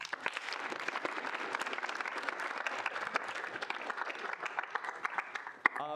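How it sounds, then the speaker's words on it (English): A steady round of applause from a crowd at a student senate meeting, with continuous clapping filling the space before tapering off near the end. "If we can get a round of applause."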